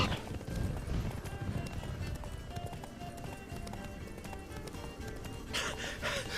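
Hooves of the horse Roach clip-clop in a rapid galloping rhythm in The Witcher 3, with a brief whinny near the end and game ambience beneath, fairly faint overall.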